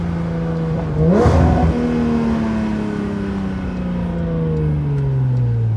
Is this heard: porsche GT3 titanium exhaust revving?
yes